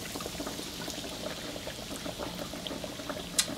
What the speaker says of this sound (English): Too much oil in there. That is boiling over.